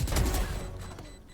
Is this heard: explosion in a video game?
yes